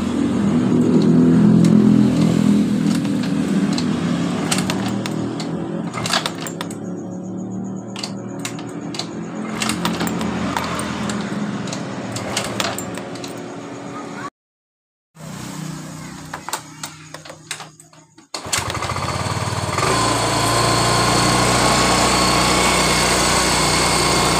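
Yamaha Mio scooter engine kick-started with a weak battery, then running steadily close by at a high-pitched idle with some revving; there is a brief dropout near the middle, and the engine is heard alone without talk.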